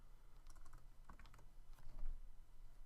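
Quick bursts of typing on a computer keyboard, soft close key clicks in a short irregular run over a quiet room hum.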